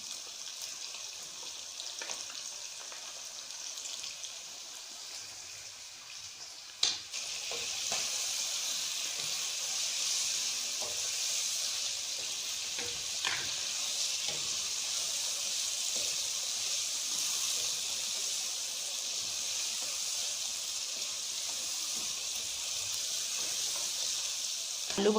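Tomatoes and green chillies fry for chicken biryani with a steady, even hiss of sizzling oil in a pan. A sharp clatter comes early, then the frying goes on at constant moderate loudness.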